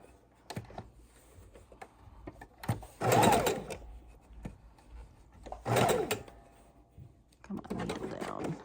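A sewing machine stitches raw edge appliqué on a Halloween quilt in short bursts of rapid whirring, with pauses filled by clicks and handling noise while a person talks between runs.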